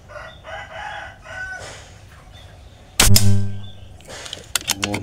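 A short airgun fires a single loud, sharp test shot midway, with a brief ringing decay after it. Roosters crow and hens cluck in the background before and after the shot.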